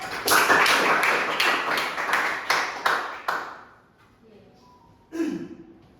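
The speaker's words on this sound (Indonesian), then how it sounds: "tepuk tangan untuk temannya dulu, Alex." A classroom claps for a student in a quick, fairly even run of about nine sharp claps that fade out. A voice speaks briefly afterward.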